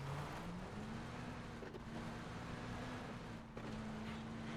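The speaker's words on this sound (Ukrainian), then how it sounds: "Я тачку чую." Car engine in the video game PUBG, a steady droning hum with a slowly rising pitch, heard at moderate distance and continuous throughout.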